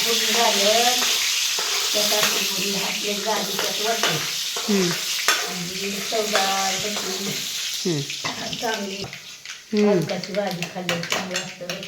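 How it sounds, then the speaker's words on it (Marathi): Hot oil sizzles and crackles steadily with cumin, mustard seeds and garlic tempering as someone talks over it throughout. "आता फोडणी द्यायची छान ह्याला जिरं टाकलंय आता मोहरी"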